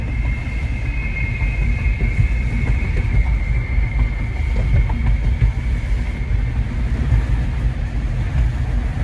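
A passing train gives a heavy, continuous rumble of rolling wagons, with a faint steady high whine above it. The sound stays loud and close for about nine seconds, and no one speaks.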